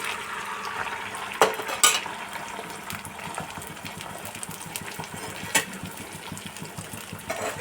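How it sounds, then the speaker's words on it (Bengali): Beaten egg being scrambled and fried in a frying pan makes a soft, even sizzle, punctuated by a few sharp clinks of a utensil against the pan. "ফ্রাইং প্যানে আমি প্রথমে ফেটিয়ে রাখা ডিমটা আমি ঝুরি ভাজা করে নেব"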